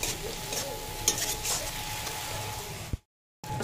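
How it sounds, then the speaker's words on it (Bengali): Spice paste with cumin powder sautéing in a pan for a katla fish curry, a steady close sizzle with stirring scrapes for about three seconds, then a brief silence before the frying resumes. "ভালো মশলাটা কষিয়ে নেব।"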